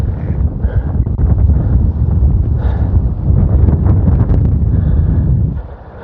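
Strong wind on a golf course buffets the microphone with loud, continuous low rumbling and gusty roar, close and unbroken for several seconds before easing slightly at the end.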